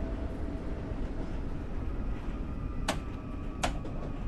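Steady low rumble of a train being driven in Train Sim World 4, continuous and even, broken by two brief sharp clicks near the end.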